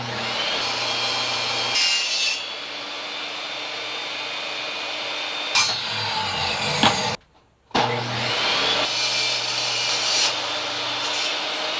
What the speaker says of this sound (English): I'll rip 2 sections out of this, one this way, cut them off, and we'll see how we do.